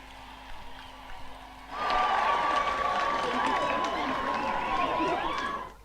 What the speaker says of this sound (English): All graduates, do you want to clap for yourselves?